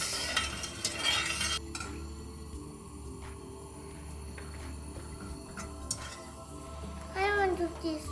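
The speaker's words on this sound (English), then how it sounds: "Let's try to mix." A spoon stirs sugar and water syrup in a pan over a flame, with repeated soft scraping and light sizzling at close range, and brief voices, including a child's, now and then.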